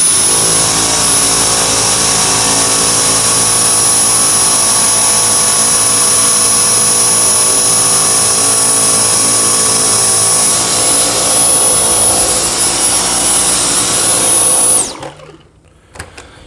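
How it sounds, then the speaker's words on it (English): Dyson V10 Motorhead cordless vacuum with its direct drive motorized cleaner head deep-cleaning carpeted stairs, a loud, close, steady high-pitched whine that runs unbroken for about fifteen seconds before switching off. "Look at the cleaner head in action. You can see how it's taking and shaking the carpet to get up all that deep down dirt."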